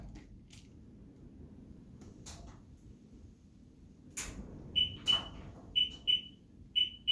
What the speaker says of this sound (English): as soon as you hit the 5-second mark, it'll start beeping